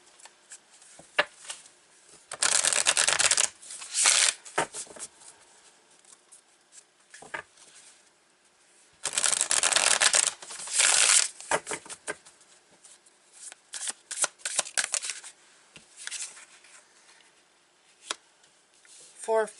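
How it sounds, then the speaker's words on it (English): Tarot cards are shuffled in two long, loud riffling bursts with scattered softer card flicks and taps between them, close up and without talk. "So let's pull some cards here"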